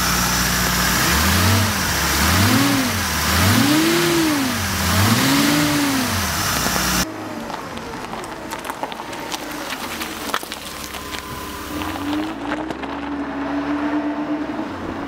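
A 1968 Mercedes 280SEL with the M130 six-cylinder engine runs loud and close, revving in repeated rising and falling swells before settling to a steadier, quieter running note.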